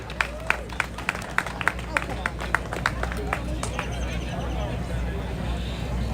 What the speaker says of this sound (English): big round of applause for Scott